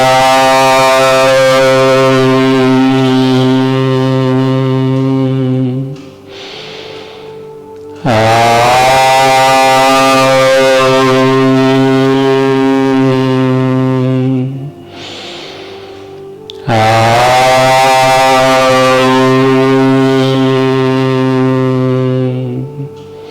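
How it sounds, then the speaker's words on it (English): A single voice chants Om three times in a yoga session, each a long, steady, resonant drone lasting several seconds, separated by short breathing pauses. "let me start off with chanting the sound Om 3 times"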